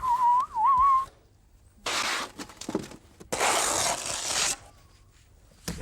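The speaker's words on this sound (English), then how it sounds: "Apparently, whistling makes plastering a lot easier." Someone whistles a short, wavering tune while plastering a board. Then come several bursts of rough, scraping swishes as plaster is spread, separated by short pauses.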